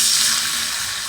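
Rice water (kanji vellam) is poured into a hot pan with ghee, producing a close, steady hiss and splash throughout a brief second.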